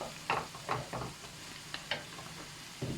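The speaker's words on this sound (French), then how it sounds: "là, tu vois, c'est en train de mijoter gentiment" A dish simmers gently in a pan, a quiet bubbling with soft stirring scrapes and small clinks repeating every half second or so, fairly faint.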